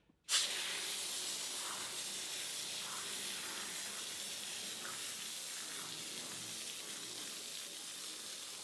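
A cheap battery-powered foam sprayer gives a steady, loud hissing spray that starts abruptly after a brief pause and runs continuously without letting up.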